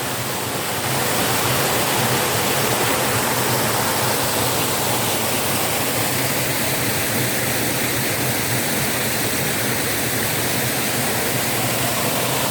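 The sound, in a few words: waterfall at a sanctuary in the forest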